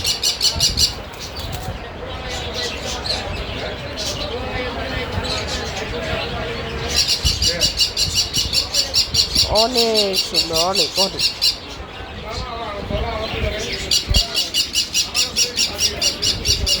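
Parrots, lovebirds and doves at a busy bird market in Kaliakor, squawking and chirping in dense overlapping bursts, close and loud, with someone talking over them.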